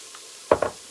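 A spoon stirs paprika into lentil barley soup in an Instant Pot, giving two quick close scrapes and sloshes in succession after a near-silent moment.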